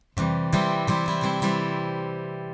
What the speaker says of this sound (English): We're going to play a simple 2-beat strumming pattern that sounds like this.